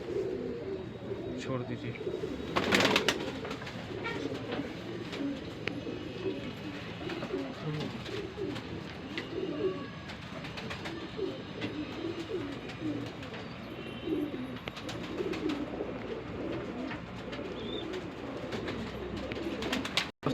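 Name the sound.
Shahjahanpuri breed pigeons cooing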